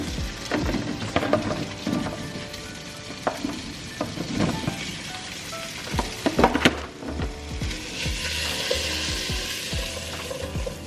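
Gnocchi frying in a pan until browned and crispy, with a steady sizzle running throughout and repeated sharp clicks and scrapes from stirring; a brighter hiss swells near the end.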